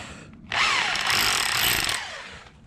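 A rotary hammer drill set to hammer-only mode bursts into a concrete block wall with a loud, harsh, rapid pounding roar lasting about a second and a half before winding down.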